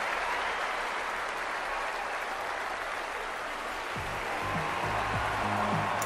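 Steady crowd applause in a tennis video game, from a broad, even wash of clapping that stays constant throughout, with a few low thumps near the end.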